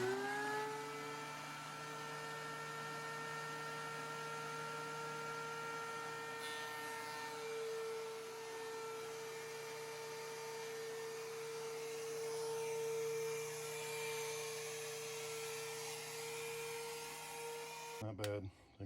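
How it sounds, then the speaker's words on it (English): DeWalt DW735 planer, freshly rebuilt, planing treated pine, a steady high whine and whir that runs continuously near and fairly faint before cutting off abruptly at the end. "Not bad. I think I'm back in operation with this planer."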